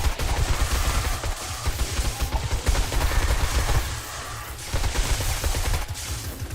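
Automated defensive turrets in the game 7 Days to Die (Darkness Falls mod) firing during a horde night: rapid, continuous bursts of gunfire with dense overlapping shots, loud and sustained throughout.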